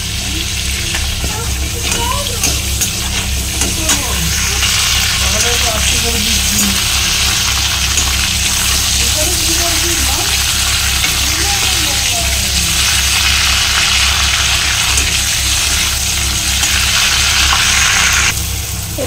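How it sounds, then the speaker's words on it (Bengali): Sliced onions sizzle in hot oil with cumin seeds and bay leaf in a home kitchen pan for shrimp biryani, a loud continuous crackling fry with occasional stirring scrapes throughout. "পেঁয়াজগুলোকে একটু লাল লাল করে ভেজে নিই"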